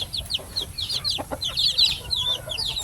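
Free-roaming hens clucking in short, scattered bursts against steady outdoor background noise, with some higher chirps mixed in nearby.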